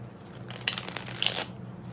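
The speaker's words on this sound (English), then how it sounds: "maybe it's going to take me a moment to figure out how to shuffle these because they do bend" Thin, bendy oracle cards being shuffled by hand, a close, brisk riffling flutter of paper lasting about a second with light taps before and after.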